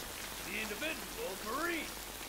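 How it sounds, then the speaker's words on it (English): Steady rain falls in a scene from the TV series The Pacific, a constant soft hiss of drops under brief, faint voices. "Rain again."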